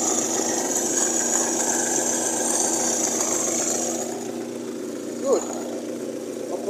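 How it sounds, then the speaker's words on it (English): The hydraulic pump on a 1946 British Conveyancer forklift rattles steadily over the running engine, a loud continuous mechanical clatter that eases slightly partway through, with a brief squeak near the end. "Bit of a rattly noise, that's from the hydraulic pump."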